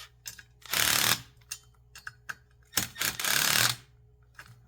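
Pins are hammered into a Colt 6920 upper receiver, sharp metallic taps and clicks landing in uneven bursts close by, with a couple of longer harsh scraping rasps.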